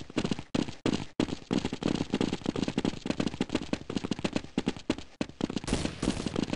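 Rapid, loud gunfire in the video game Counter-Strike 1.6: dense bursts of shots crackle almost continuously, broken only by a few brief pauses.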